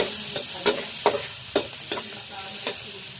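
Garlic stir-frying in a home kitchen pan while mussels and shrimp are prepared, a steady sizzle under repeated sharp scraping clicks of a utensil against the pan at irregular intervals, close and fairly loud, no talking.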